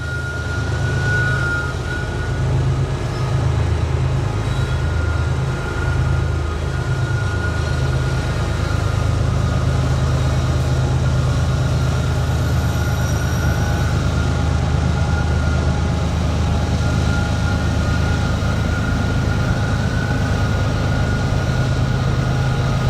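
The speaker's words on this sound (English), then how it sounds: "an approaching headlight announced another train climbing the grade" A freight train climbs the grade on the Pittsburgh Line, its locomotive engines rumbling in a steady, heavy low drone that holds for the whole stretch, with a faint high whine riding above and no voices.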